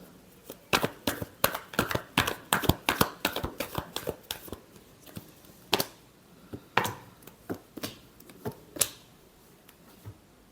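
Tarot cards being shuffled give a quick, crisp run of riffling snaps and slaps, dense at first and then more spaced, close and fairly loud with no talking.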